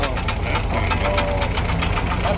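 A Jeep engine runs at a steady, rough idle just after firing up, with a continuous close, loud rumble and a tapping, knocking rattle throughout.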